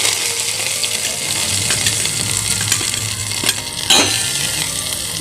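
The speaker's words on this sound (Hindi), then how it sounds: "फिर इसके बाद हम डालें इसमें प्याज" Onion dropped into hot oil and fried with stirring, a constant bright sizzle punctuated by several sharp metallic clinks of a spoon against the pan, no talk.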